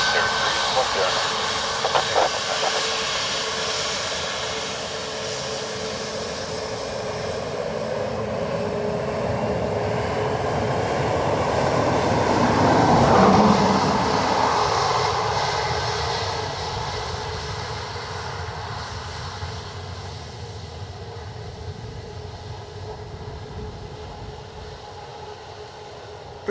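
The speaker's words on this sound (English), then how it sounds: "Those clamshell reversers are class." Ryanair jet arriving from Kerry, landing with clamshell thrust reversers deployed: a steady broad engine roar that swells to a peak midway, then eases back, with faint radio and voices beneath.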